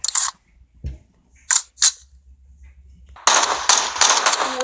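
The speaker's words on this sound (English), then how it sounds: "we're being shot at. Heavy fire." Gunfire in a battle-royale shooter video game: a few sharp isolated cracks early on, then a loud, dense burst of rapid shots in the final second and a half, with no talk.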